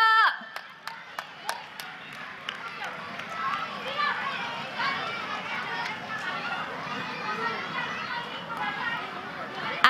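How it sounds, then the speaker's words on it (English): Parents clapping at a school sports day: a few sharp isolated claps at first, then steady applause mixed with crowd chatter and children's voices, with a voice talking over it. "Parents, please clap louder."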